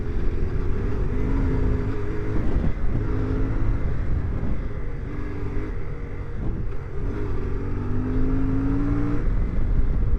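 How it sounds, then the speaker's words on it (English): A CFMOTO Ibex 450 adventure motorcycle is pushed hard across rough terrain, its engine revving and surging up and down in pitch, with rising whines during acceleration over steady wind and rumble, loud and continuous without speech. "You can actually hustle this bike along pretty fast in rough terrain."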